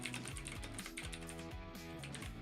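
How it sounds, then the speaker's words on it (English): Rapid, loud clatter of keys on a computer keyboard, continuous bursts of close, crisp clicks with no voice. "I'm so sorry about my typing noises. They're so loud."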